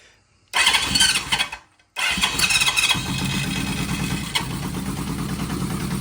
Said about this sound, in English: And we have a running bike.